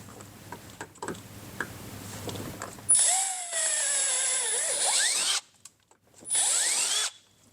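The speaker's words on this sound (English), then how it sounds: "Drill through the fender." Power drill boring through a plastic fender on a 2024+ Polaris RZR XP 1000 during a fender kit install, two close whining bursts rising in pitch, separated by a short silence.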